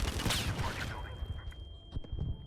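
Bursts of gunfire in the ARC Raiders video game, a dense loud volley at the start easing into scattered sharper shots, with a steady tone running underneath and faint voices in the background.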